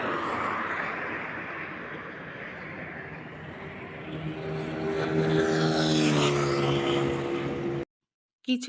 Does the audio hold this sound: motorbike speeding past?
yes